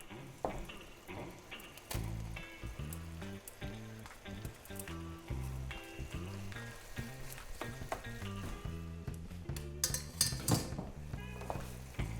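Fresh pasta goes into a hot pan and is stirred through with the sauce in a home kitchen, a soft, steady sizzle under a faint, rhythmic background with occasional clinks.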